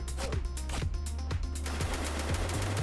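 Machine gun firing in a Roblox Warfare Battle Simulator World War One trench battle, a steady rapid burst of heavy thudding shots that continues for the whole stretch, loud and close with no talk over it.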